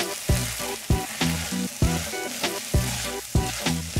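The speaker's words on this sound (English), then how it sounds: "we're gonna stir this up and let it kind of caramelize a little bit" Tomato paste sizzles in a pot while a spoon scrapes through it in regular strokes about every half second, close and clear over a steady frying hiss, with no voices.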